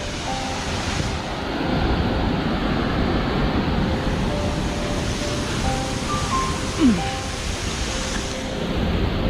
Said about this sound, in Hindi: वाटरफॉल को क्लोज से देखने के लिए और थोड़ा आगे जाएंगे।